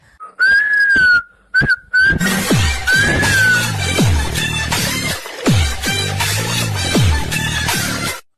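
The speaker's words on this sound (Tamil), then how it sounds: "விசில் அடிக்க தெரியுமா" A person whistles a sustained, wavering melody, loud and close, over busy, rhythmic music with thumping percussive hits for most of the passage; the whistle opens alone before the backing joins.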